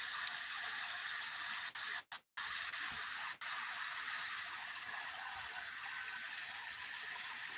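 A long waterfall on a river, heard as a steady broadband rushing hiss that runs throughout with only a couple of brief dropouts.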